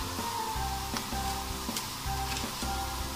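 Vegetables (cauliflower, turnip, carrots and radish, soaked in vinegar) frying in a pot for mixed vegetable pulao make a soft, steady sizzle with repeated stirring scrapes at a regular rhythm, close and fairly quiet, with no talk.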